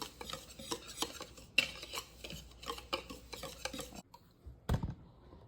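A whisk combines cornmeal and all-purpose flour in a bowl for Jamaican sweet potato pudding, producing quiet, quick rhythmic scratching and tapping strokes that stop near the end, followed by one soft knock.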